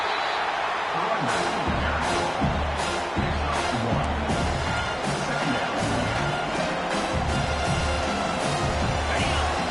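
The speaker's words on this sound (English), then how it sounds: "It is getting loud as this crowd tries to help its defense" A loud football stadium crowd roars steadily throughout a college game between Indiana and Michigan, a dense continuous wall of noise with rhythmic swells, and a commentator's voice runs over it.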